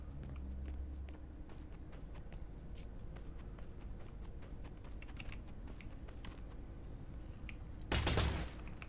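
Rapid gunfire from the video game Industria, with dense bursts of shots crackling steadily throughout and a louder, harsher blast near the end.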